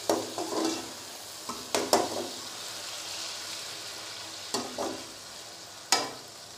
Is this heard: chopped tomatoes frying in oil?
yes